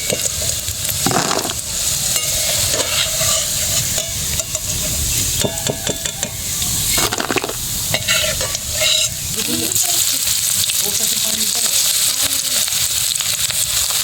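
Food frying and sizzling steadily in a pan, being stirred and spread out, with a continuous hiss and intermittent scraping and clatter throughout.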